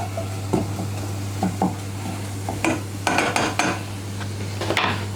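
Milk whisked into a flour roux in a pan for a lasagna sauce, with repeated metallic scrapes and clinks of the utensil against the pan, some bursts brighter, over a steady low hum and no speech.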